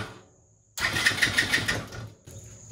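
A TaoTao 110cc Chinese ATV motor cranks over with the key, giving a close, rhythmic whirring starter churn for about a second and a half after a quiet start, then stops.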